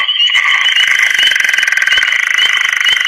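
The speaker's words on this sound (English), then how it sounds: "So it's got that guttural snore followed by those clucking grunts." A leopard frog's guttural snore call mixes with the dense, high, shrill chorus of spring peepers. The sound is loud, close and continuous and fills the whole stretch with pulsing calls.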